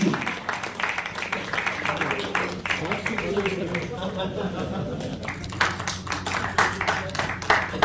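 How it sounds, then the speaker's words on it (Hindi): An audience claps for a young performer at a Hindi theatre event, with steady, dense applause from many hands that runs throughout and rises near the end. Someone speaks over the clapping. "इस गुड़िया के लिए ताली बजानी चाहिए"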